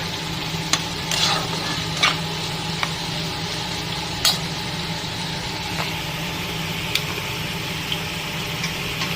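Food fries in a pan on a home kitchen stove, a constant close sizzle with occasional scraping stirs and light clinks, no voices over it.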